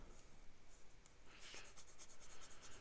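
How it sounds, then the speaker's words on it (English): A Visconti fountain pen with a medium nib makes faint scratchy strokes while swatching ink on paper, the quiet nib scratching repeating in short bursts against a low hiss. "So we'll do an ink swatch here."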